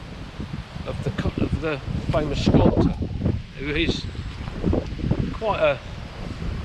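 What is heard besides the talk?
wind blowing outdoors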